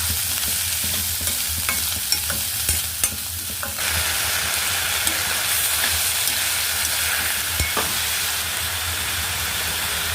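Green chillies, onion and curry leaves fry in hot oil with a loud, steady sizzle and hiss, stirred now and then with faint scraping, close up with no talk.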